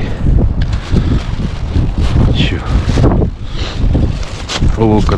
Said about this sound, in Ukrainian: Ох ти, вітер сильний зірвався.